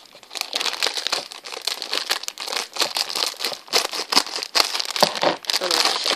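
Scissors cut the paper packaging of a Kracie Popin Cooking sushi kit with close, continuous crinkling and rustling, dense and uneven with no pauses.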